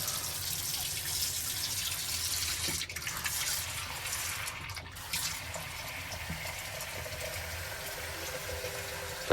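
Water draining from a washbasin with a push-pull stopper in a Japanese hotel, a steady rushing gurgle running for several seconds, close and fairly loud, with no speech.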